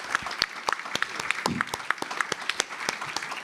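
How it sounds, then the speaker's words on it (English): Steady audience applause from a seated crowd after a faculty presentation of authors and poets, dense claps filling the room at moderate loudness, with a brief voice over it. "Let's have another big round of applause for James Stroud, Mark Wunderlich, and Cleyvis Natera"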